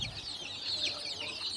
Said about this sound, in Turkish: Bunlar kendi civcivlerim.